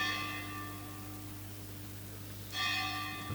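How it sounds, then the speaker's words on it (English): A temple bell rings with a sustained, shimmering tone that fades, then a fresh strike lands near the end, heard alone over quiet room ambience. "Prabhupada always wanted the bell to be on time."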